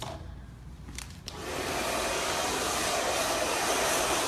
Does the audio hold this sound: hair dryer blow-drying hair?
yes